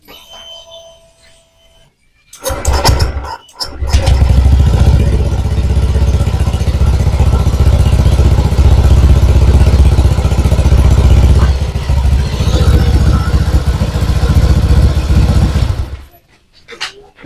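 A Honda Vario 125 scooter with an ignition fault is started and left idling, a steady close engine rumble running for about twelve seconds before cutting off, with a couple of brief bursts beforehand.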